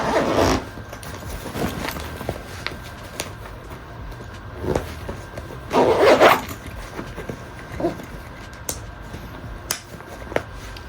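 Zipper of a heavy mobile massage therapist's bag, packed to about 50 pounds, being pulled open in short scraping bursts, with the loudest zip run near the middle and fainter tugs and rustles around it.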